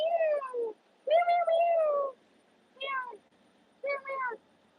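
A house cat meows four times in short, clear, close cries separated by pauses, the second one longest, with no other sound around them.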